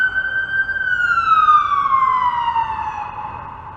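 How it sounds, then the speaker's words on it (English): An ambulance siren wails on Dundas Street in downtown Toronto, a single long, falling sweep heard clearly and fairly close over faint street noise. "As an ambulance makes its way west on Dundas Street."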